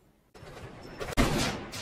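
Gunshots fired toward Charlie and his men: a sharp, loud crack stands out amid a quieter burst of distant gunfire, with a rumbling echo trailing after the main shot.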